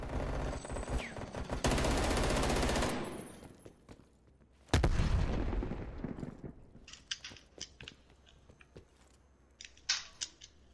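Rapid automatic gunfire from a Call of Duty Cold War match comes in two dense, loud bursts with lighter scattered shots and clicks between them, and some faint game sounds follow.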